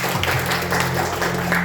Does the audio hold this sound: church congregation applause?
yes